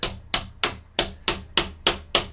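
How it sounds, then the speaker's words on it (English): A hammer knocks wooden wedges under the string of a hickory bow during gluing up, eight sharp, evenly spaced close strikes, each ringing briefly, with no talk. "So I'm going to just knock them wedges under the string."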